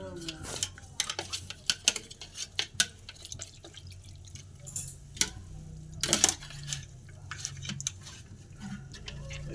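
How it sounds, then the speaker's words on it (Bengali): Chicken pieces being tossed and mixed in flour in a bowl for KFC-style popcorn chicken, with irregular soft scrapes, taps and clinks against the bowl, close up and fairly quiet, with talking at times. "ময়দার এর সঙ্গে আমি এগুলো ভালো করে একটু মিশিয়ে নেব।"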